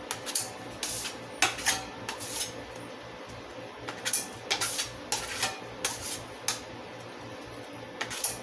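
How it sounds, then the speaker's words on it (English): Bondo body filler being kneaded and scraped on a putty knife while repairing a Ranger box, giving a string of light metallic ticks and scraping rubs at an irregular rhythm, close up and fairly quiet. "I'm just gonna knead it on the putty knife like that"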